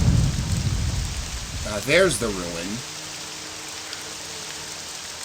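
Rain and thunder in the video game Morrowind: a low thunder rumble opens, then a steady, loud hiss of rainfall carries on throughout while someone speaks briefly in the middle.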